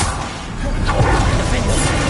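A Confringo fire spell cast in Hogwarts Legacy sends out a rushing whoosh that swells into a muffled burst, set against a steady bed of game noise with a voice running underneath.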